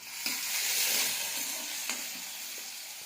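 Tomato dropped into overheated oil for chicken sukka, a bright continuous sizzle with a couple of sharp ladle taps, alone and fairly close.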